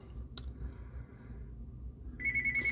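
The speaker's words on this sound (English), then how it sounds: "Oh, there's the phone call." A telephone rings near the end, a steady electronic ring tone entering after a low background hum beside a Teac CD-RW890 CD recorder being examined, with a brief click earlier.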